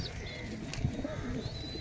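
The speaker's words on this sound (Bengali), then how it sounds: "এই আমার নিচে বাড়ির পায়রা" Pigeons in a rooftop loft in Khidirpur give soft, low cooing murmurs under a constant noisy background, with faint thin chirps above.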